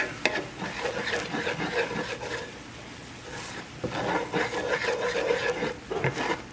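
A utensil scrapes and swirls through thickening white gravy made with milk in a pan, giving repeated rhythmic stirring strokes with a brief pause midway, close and clear with no talking.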